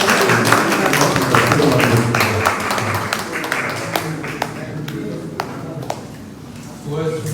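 Sustained applause from an audience at a Korean language discussion forum, many hands clapping together, with a voice speaking over it near the start before the clapping fades.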